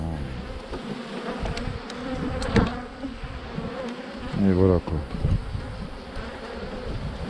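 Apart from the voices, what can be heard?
honeybees buzzing at hive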